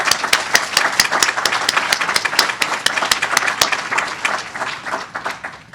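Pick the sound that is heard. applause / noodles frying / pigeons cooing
applause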